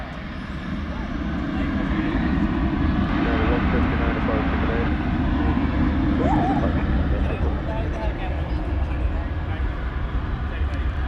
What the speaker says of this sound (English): Here goes United Airbus A319 going to Denver, Colorado